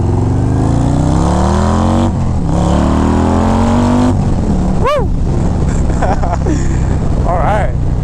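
A Harley-Davidson Road Glide with a 2.2-liter engine is ridden close up, its loud exhaust droning and climbing in pitch through the gears, with a sharp rev partway through over steady road and wind rush.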